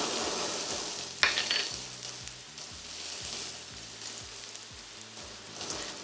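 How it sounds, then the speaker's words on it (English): Minced garlic sizzling in a pot for broccoli cheddar soup, a soft steady fry with scraping stirs and a few light clinks, quiet and close, no voices. "Now we're going to add in 1 clove of minced garlic and stir for about 30 seconds."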